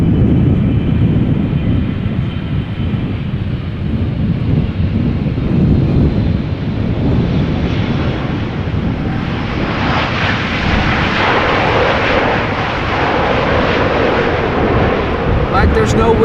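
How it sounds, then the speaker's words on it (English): An airplane lands at Amsterdam Schiphol Airport during Storm Pia, its loud, steady engine roar rising and swelling toward the end, mixed with buffeting wind noise on the microphone. "What a textbook landing."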